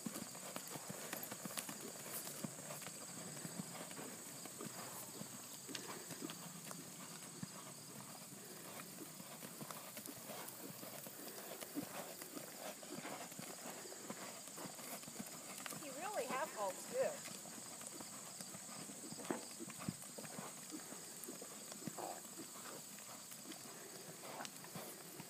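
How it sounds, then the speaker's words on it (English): A ridden horse's hooves clip-clop steadily over a long stretch during a riding lesson, soft and somewhat distant beneath a continuous bright insect-like hiss, while an instructor speaks at times. "You ride him very well, Jane."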